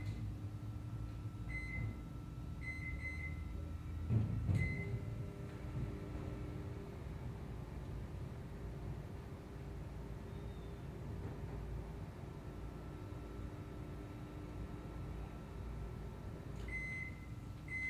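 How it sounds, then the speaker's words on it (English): A microwave oven hums steadily with a low drone and background whir, punctuated by a few short electronic beeps near the start and end. "The microwave has been stopped at 12 seconds."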